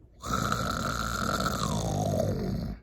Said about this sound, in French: Il se met même à ronfler.